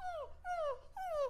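A dog whimpers three times in quick succession, close and fairly quiet, each a descending, high-pitched whine.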